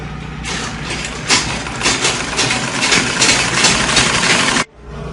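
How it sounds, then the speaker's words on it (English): A sewing machine stitching a half-inch seam on an A-line long skirt: a steady, continuous mechanical whir running for several seconds and then stopping abruptly near the end. "So you come to the machine and start sewing."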